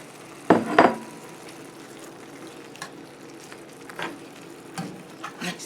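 Meat being stirred in a hot frying pan, an opening pair of loud scraping clatters followed by a softer steady sizzle with occasional light utensil knocks.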